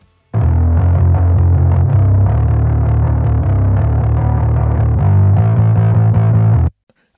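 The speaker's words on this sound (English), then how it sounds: "I did add in a mid-range distortion" A distorted bass guitar with mid-range distortion plays a steady, driving low line in a stoner rock mix, with a gritty, fuzzy edge, loud and continuous for several seconds before cutting off abruptly.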